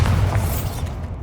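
A Bombarda spell explosion in Hogwarts Legacy: a single deep, booming blast, loud and close, with a low rumbling tail that fades over about a second.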